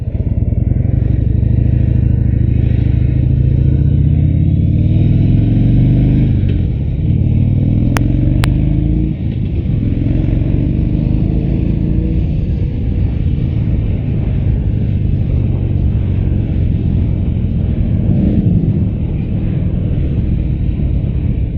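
A 2016 Harley-Davidson Low Rider V-twin rumbles loudly and continuously on a test ride, with engine drone and wind buffeting rising and easing, and brief clatter throughout.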